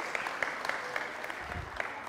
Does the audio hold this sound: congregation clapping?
yes